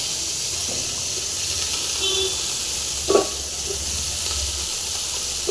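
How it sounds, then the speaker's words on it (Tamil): Tomatoes, salt and coriander fry in a pan with a soft, continuous hissing sizzle, broken by a few faint clinks and scrapes. "நல்லா ஃப்ரை ஆகட்டும்"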